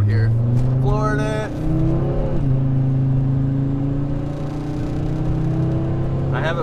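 Turbocharged 1996 Volvo wagon at full throttle on a higher-speed road, engine revving steadily upward, briefly dipping at a gear shift around 4,500 rpm, then climbing again, loud from inside the cabin.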